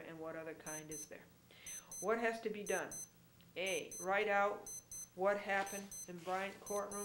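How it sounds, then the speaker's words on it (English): An alarm clock going off in repeated short bursts of high, bright electronic beeps, sounding in pairs and triplets throughout, partly masked by a person talking continuously over it. "That's my alarm telling me it's time to go on retreat."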